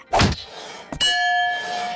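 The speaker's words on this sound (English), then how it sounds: "You hit this button with this hammer." A hammer strikes the button of a strength-tester game in a Peppa Pig playset, giving a loud thunk followed by a second hit and a ringing bell-like tone that lingers and fades.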